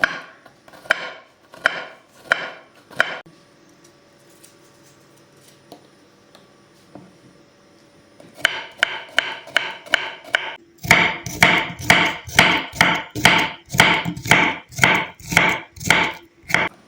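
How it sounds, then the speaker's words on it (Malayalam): Knife chopping bilimbi (Averrhoa bilimbi) fruit on a board: a few quick taps, a pause with faint background hum, then steady rapid rhythmic chops growing louder and denser toward the end, close and clear with no talking. "ഇതിന് ചെറുതായിട്ടൊന്ന് കട്ട് ചെയ്തെടുക്കാം ഇങ്ങനെ നൈസാക്കിയിട്ട് അരിഞ്ഞെടുക്കാം"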